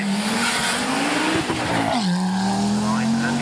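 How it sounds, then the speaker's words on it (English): An Audi Quattro race car climbs a hill at a hillclimb event, its engine revving hard with a rising and falling exhaust note and a brief tire squeal, loud and close, with a commentator talking over it. "That broadcast exhaust note says that it's multiple Southwest champion John"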